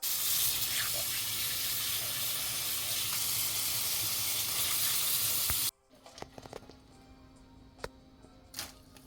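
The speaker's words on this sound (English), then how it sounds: "Over to the sink and wash." Water gushing steadily from a sink tap while hibiscus is washed, a loud continuous hiss that stops abruptly partway, leaving faint clinks and drips.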